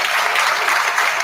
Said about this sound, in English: I'll ask for a round of applause for the work that's been done